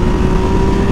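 A 2020 Yamaha MT-09 motorcycle's engine pulling hard after a downshift, a loud, steady, low droning growl heard close up with no speech over it.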